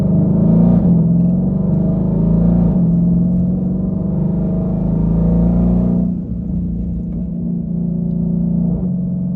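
A twin-turbo 2020 Ford GT500 engine runs cold, a loud, deep, steady rumble that rises in pitch in a few brief revs and settles again, with no voices.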